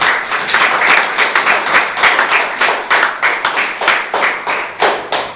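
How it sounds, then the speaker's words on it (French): A church youth congregation at a Protestant service claps together in a steady, rhythmic beat, many hands near and lively, with a few cheers mixed in and no talking. "Est-ce qu'on peut acclamer la parole de Dieu?"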